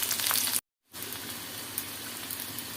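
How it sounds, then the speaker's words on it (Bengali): Onions sizzling and frying in hot oil with spices, a steady crackling hiss that cuts out briefly for a moment, then resumes at a lower, even level. "আবার একটু পেঁয়াজ দিয়ে দিলাম, এগুলো একটু ভাজা হোক"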